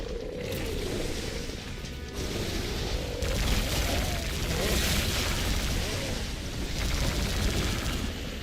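Repeated gunfire bursts and booming shots from the Doom Dragon Sector Remake, rattling in rapid volleys with explosive thumps, loud and continuous over background game noise.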